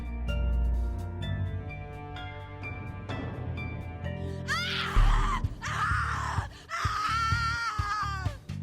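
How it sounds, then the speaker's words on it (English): A drawn-out, anguished scream rises and wavers in the video game The Cat Lady, over a low ambient drone, with strained vocal cries returning several times. "Your scream is like a poem without words."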